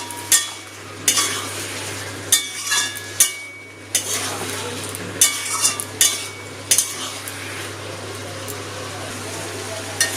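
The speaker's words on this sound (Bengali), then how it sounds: "মশলা বাটার জলটা দিয়ে আর একটু কষিয়ে নেব" Vegetables for a Gobindobhog rice khichuri being sautéed with spice paste water in a pan, a soft simmering sizzle broken by repeated loud scrapes and knocks of a spoon against the pot.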